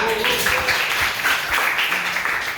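Steady applause from a crowd, continuous clapping filling the whole moment with a few voices mixed in.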